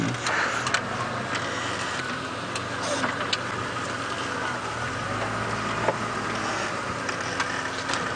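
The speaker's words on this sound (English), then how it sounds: "Me making a giant noise with this car." A safari vehicle engine runs continuously nearby during a sunset game drive, with a low rumble, scattered clicks and ticks over the drone, and a voice occasionally speaking.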